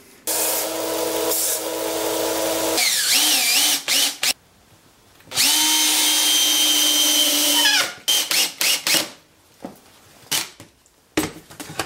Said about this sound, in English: now I'm going to just take it on the sander and round the edges off a bit